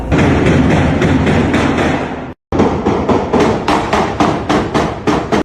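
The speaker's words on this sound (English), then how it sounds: "be setting off artificial flashbangs" Military flashbangs go off in a residential Los Angeles neighborhood, a rapid string of loud sharp bangs that are briefly cut off and then resume in a steady pounding series, close and harsh.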